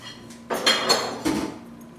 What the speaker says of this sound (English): Get rid of my dishes.